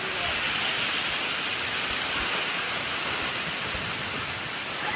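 Steady rain pours down in a continuous broadband hiss, even and dense for the whole stretch, with no voices over it.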